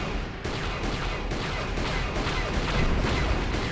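Rapid blaster shots fire in the Knights of the Old Republic PC game, a dense, loud barrage of booming bursts repeating without pause over a continuous roar of combat noise.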